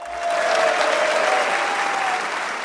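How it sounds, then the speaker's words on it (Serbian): Sustained applause from a crowd at a 2012 election campaign rally in Smederevo, Serbia, dense and steady for nearly three seconds with a faint tonal whistle running through it. "jedan veliki aplauz za njega."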